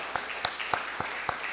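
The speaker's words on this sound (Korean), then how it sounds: "축복의 박수, 사랑의 박수 한번 주십시다" A church congregation claps for the children during a worship service, a short burst of sharp, separate hand claps at a loose, uneven rhythm, fairly close and not very loud.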